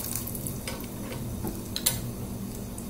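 Quiet steady sizzle of dried red chillies and fenugreek seeds frying in oil in a pan, with faint ticking crackles and a brief sharp tap near the end.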